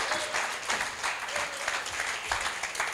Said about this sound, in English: Give the Lord a hand clap of praise, of worship, because that's true.